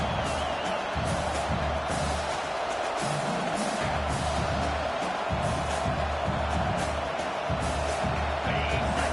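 A stadium crowd in an American football video game keeps up a dense, steady roar throughout, loud and unbroken, with broadcast commentary running over it.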